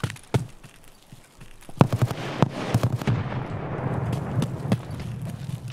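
A grenade explodes in the video game Escape from Tarkov on the Customs map: a series of sharp, loud bangs over a sustained rumbling roar, with gunfire-like cracks scattered through the battle noise.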